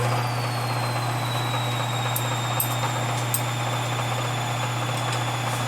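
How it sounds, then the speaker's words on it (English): An old metal lathe runs steadily with a loud, constant mechanical hum and whine, a few faint ticks and clicks breaking through the continuous drone. "This old lathe's a little bit noisy."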